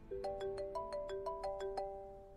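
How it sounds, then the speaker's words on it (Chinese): A telephone ringtone plays a bright repeating melodic pattern of short tones, steady and fairly faint, with nothing else heard. "电话响起"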